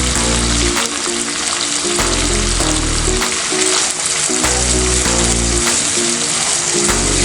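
Fermented soybeans (Tungrymbai) frying in a pan, cooked Khasi style and seasoned with black pepper, give a loud, dense, continuous sizzle while a utensil stirs them with periodic scraping strokes.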